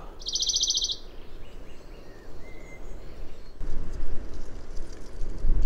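A bright, rapid bird trill rings out early and stops, followed by softer distant chirps over a steady rumble of wind, recorded with a parabolic microphone.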